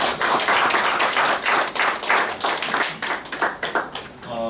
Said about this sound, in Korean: 우리 박사님을 위해서 한번 박수 한번